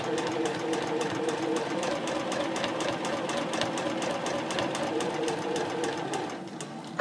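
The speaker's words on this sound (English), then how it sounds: "And then I'll pivot again, stitch over to the last line, and pivot and stitch up to the top." Sewing machine stitching and pivoting on a quilted mini backpack card holder, a steady rapid needle clatter running continuously close up, easing slightly at the end.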